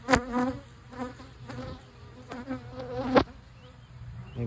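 Honey bees buzzing around an open hive during a beekeeping inspection, several close, loud passes of whining buzz rising and fading in irregular bursts over a quiet, continuous hum, with no speech.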